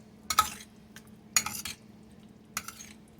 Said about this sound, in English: we're going to mix all this up